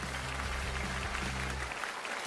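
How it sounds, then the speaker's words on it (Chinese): A studio audience at a televised singing talent show applauds steadily and densely, a continuous wash of clapping with a low musical hum beneath that fades out near the end. "再次掌声送给今天的每一位选手"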